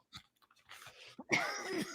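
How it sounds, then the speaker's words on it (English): A single person's cough bursts out loudly after a few faint breaths and throat noises, followed by a rough, raspy trailing exhale in a quiet room. "I was holding in a cough that last minute and a half"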